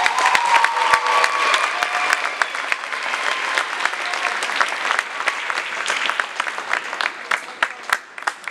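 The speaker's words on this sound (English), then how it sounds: "Ladies and gentlemen, please give one more round of applause for the amazing" Audience applause at a high school award ceremony, loud sustained clapping from a large crowd with a few faint cheers mixed in, continuing steadily throughout.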